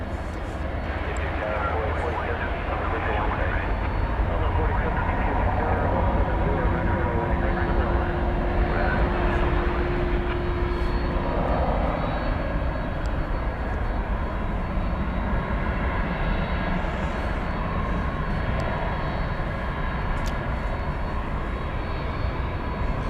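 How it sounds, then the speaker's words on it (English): Cargolux cargo jet in 50th anniversary livery at DFW Airport at night, a loud continuous engine roar and rumble with a brief steady whine partway through, with occasional faint voices. "Cargolux flight 5795 going to Miami, but it has the 50th anniversary livery, which is what we just saw"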